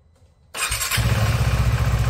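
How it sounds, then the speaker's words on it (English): A KTM 390 Adventure motorcycle engine cranks and catches after a brief quiet moment, then settles into a loud, steady idle with a throbbing low rumble, heard alone with no talk. "I'll need to start the engine, make sure it's in neutral here"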